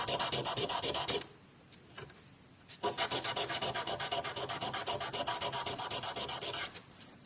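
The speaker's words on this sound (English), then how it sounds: "I'll give the top and the bottom a quick sand." Quick sanding of the top and bottom faces of a handmade flower ring, a fast rhythmic rubbing of abrasive on metal, close and steady, with a brief pause near the start before the strokes resume.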